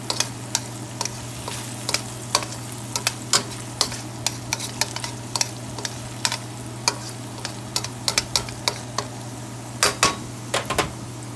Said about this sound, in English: We want to get that just so that it is sauteed.